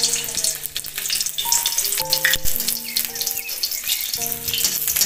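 Vegetables, corn and cumin fry in hot oil with a steady, close, loud sizzle, and occasional light clinks of stirring sound over it.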